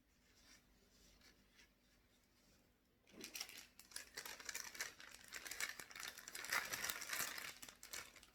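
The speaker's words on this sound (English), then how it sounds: "Sorry for the crinkling." Packaging crinkles close by, first faint and sparse, then a sudden louder burst of continuous rustling and crackling that keeps going to the end.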